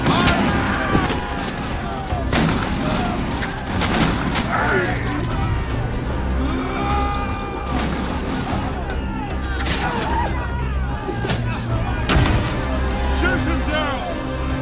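Musket volley fire in the video game Guts & Blackpowder during the Hougoumont siege: several sharp, booming shots burst out at irregular intervals amid constant shouting and battle noise.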